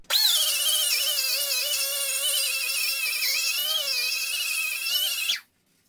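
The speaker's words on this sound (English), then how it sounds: "I'm just using these little roll-lock sanding pads" A high, steady whirring of a small rotary tool with roll-lock sanding pads cleaning cast aluminum before a weld repair, running continuously for about five seconds, then cutting off abruptly.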